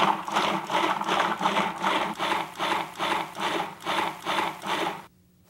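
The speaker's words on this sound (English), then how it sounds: "I will chop that very coarsely, just with a couple on and offs" A food processor coarsely chops vegetables for rice pilaf, making a loud, close, whirring churn that surges and dips in a quick regular rhythm before cutting off abruptly.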